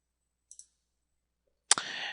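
Computer mouse clicks while working in drawing software: a quick double click, a pause, then a sharper click followed by a brief burst of noise, all faint and close in a quiet room.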